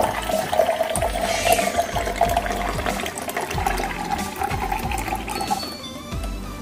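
A Japanese water stand dispenser fills a container, giving a steady close stream of running water with faint mechanical clicks and hum underneath, with no talking.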